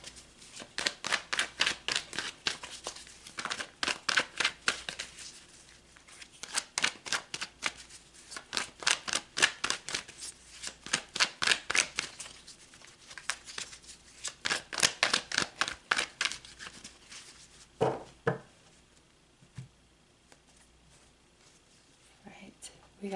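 Tarot cards are shuffled over and over in a quiet room, each pass a quick riffle of rapid flutters repeating in bursts, with a short soft voice toward the end.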